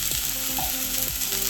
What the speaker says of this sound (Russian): Я быстренько обжариваю с одной стороны.